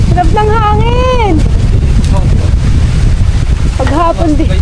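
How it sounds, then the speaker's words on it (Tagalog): Strong wind roars steadily across the microphone by the water near a roadside overlook, loud and continuous, while excited voices shout and talk over it. "Sarap ng hangin!"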